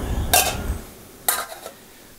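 A slightly oversized lid is set over a baking dish of quail with small vegetables, making two light metallic clinks about a second apart, close and quiet.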